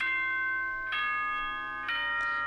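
A school broadcast chime in the video game Danganronpa: Trigger Happy Havoc, a clear electronic ding-dong with sustained ringing tones, two struck notes followed by a softer third, heard alone.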